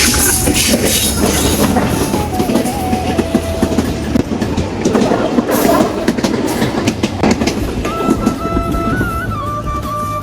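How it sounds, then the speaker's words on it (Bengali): A local train passes along a railway line, loud and close, with steady clattering wheels and rumble throughout and drawn-out metallic squeals rising and falling. "দেখুন ট্রেনটি চলে এসেছে কাছাকাছি"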